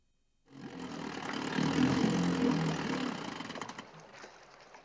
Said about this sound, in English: cut the engine